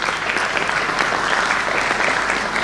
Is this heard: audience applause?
yes